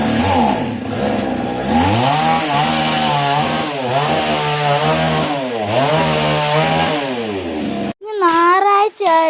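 A chainsaw cuts through a fallen jackfruit tree in a Kerala village yard. It runs loud and close, rising and falling in repeated revving strokes, then drops out and restarts briefly. A voice speaks over it.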